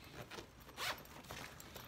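Zipper on a Kanken backpack pulled open in a short, close rasping run with a brighter burst midway, quiet and alone with no talking.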